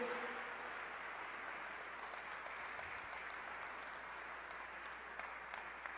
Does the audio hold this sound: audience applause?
yes